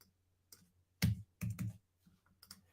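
Computer keyboard typing: a few scattered soft clicks, then short bursts of louder, close key presses, with quiet pauses between them and no speech.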